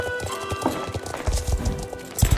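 Horses clip-clopping in a video game, hooves striking in quick irregular beats over a busy, rumbling game soundscape, with a brief whinny-like tone mixed in.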